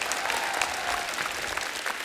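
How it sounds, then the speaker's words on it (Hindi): An audience applauds on the set of a comedy talk show, dense sustained clapping from a crowd filling the whole short stretch at a fairly loud, even level. "जोरदार तालियां होनी चाहिए।"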